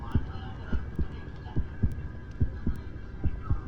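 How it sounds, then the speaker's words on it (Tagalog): A fast heartbeat thuds steadily in a Roblox horror game, about a dozen paired low beats over a faint background hum, close and moderately loud with no talk over it. "mabilis yung heartbeat natin eh"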